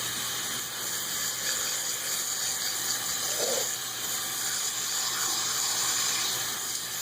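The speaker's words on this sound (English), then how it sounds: "I'm going to get the water. I don't want it to be too cold." A tap runs steadily for a hair shampoo, a soft continuous hiss of flowing water heard close by for several seconds with no talking.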